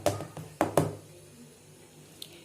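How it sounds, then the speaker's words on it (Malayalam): A cake tin of batter is tapped against a surface to release air bubbles, giving about four sharp, close knocks in the first second, the middle two loudest, then quiet. "ഇനി നമുക്ക് ഇതിനെ ചെറുതായിട്ട് ഇങ്ങനെ ഒന്ന് തട്ടി കൊടുക്കണം. ലെയർ ബബിൾസ് ഒന്നും ഇല്ലാതിരിക്കാൻ വേണ്ടിയിട്ടാണ്."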